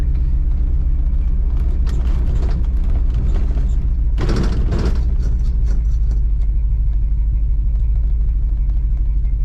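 Low, heavy engine rumble from a 1976 Chevrolet Caprice Classic two-door lowrider rolling slowly down the road, steady throughout with a brief louder mechanical rattle or clatter midway.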